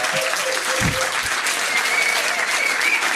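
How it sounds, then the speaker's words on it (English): A crowd at a trivia quiz night applauds loudly and continuously, dense clapping filling the room throughout, with brief voices underneath. "So a big round of applause there."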